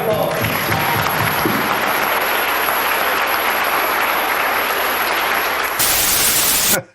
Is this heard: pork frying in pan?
no